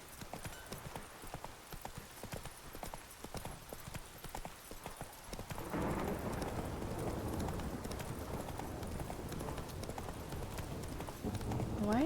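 Roach the horse from The Witcher 3 clip-clopping along, light hoofbeats at first, then a denser, louder galloping rhythm with heavier rumble from midway, steady and close.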